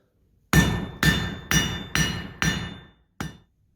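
A hammer strikes steel to taper the end of a blade at a blacksmith hammer-in. There are six sharp ringing blows, five in steady rhythm and one more after a short pause, each close and loud with a metallic ring.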